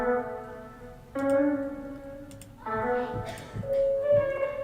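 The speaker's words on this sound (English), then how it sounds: "these little guitar licks that I did, drenched them in reverbs and effects" Short electric guitar phrases ring out with long, washy reverb tails, a few separate licks with gaps between them, moderately quiet and alone.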